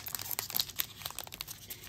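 Crinkly foil wrapper of a 2021 Panini Mosaic trading card pack being torn open, close and crisp, with quick bursts of crackling and ripping and no voices.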